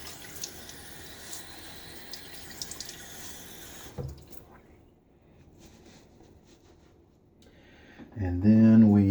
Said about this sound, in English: as usual, splash of water on face.